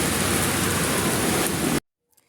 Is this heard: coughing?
no